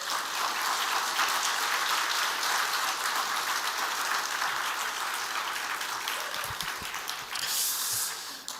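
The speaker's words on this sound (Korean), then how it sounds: "우리 목사님 나오실 때 크게 환영의 박수 하겠습니다." A church congregation applauds to welcome the pastor during a Sunday service, sustained dense clapping from a large crowd that carries on steadily for the whole stretch.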